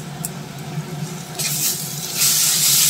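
A radish paratha filling being stirred as it fries in a pan, with a soft scraping sizzle that swells into a brighter, louder hiss over the last second and a half, with no talking.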